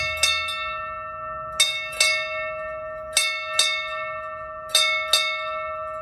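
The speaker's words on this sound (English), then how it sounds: "8 bells are struck to signal the end of the watch" A Navy ship's bell rings eight times at a ceremony in four evenly spaced pairs of clear, ringing strikes, each pair's tone lingering before the next, with no talking.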